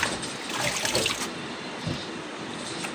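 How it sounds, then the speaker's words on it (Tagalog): Rinse water trickles and drains through a strainer holding freshly washed leafy vegetables, a close, continuous splashing flow that eases off after the first second. "nilagay ko na sa strainer para yung tubig tumagos dyan"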